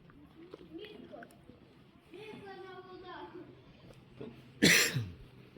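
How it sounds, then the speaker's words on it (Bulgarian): A child gives one sharp, loud cough near the end after quieter voices speaking and some vocal sounds. "Ей, как кашля, виж го."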